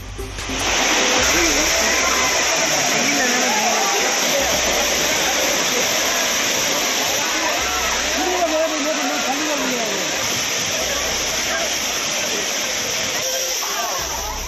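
Courtallam waterfall in Tamil Nadu roars as a steady, broadband rush of falling water, with tourists bathing beneath it; a news voice speaks over the continuous torrent throughout.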